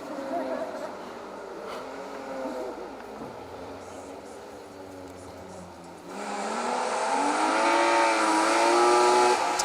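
A BMW compact rally car with an M3 engine races along a closed asphalt rally stage, its engine note rising and falling through gear changes and swelling louder as it comes closer, with voices talking over it.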